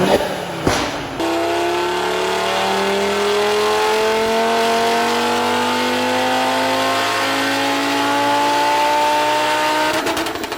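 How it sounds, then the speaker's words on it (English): After a short cranking burst, an Audi RS3 five-cylinder engine roars and climbs steadily in pitch as it revs, loud and close, with a warbling exhaust tone. "The hills are alive with the sound of 5-cylinder."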